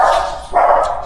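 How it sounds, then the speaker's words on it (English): Dogs bark loudly at something at the house door, two bursts of barking close by with a short pause between them. "My dogs heard something at the door."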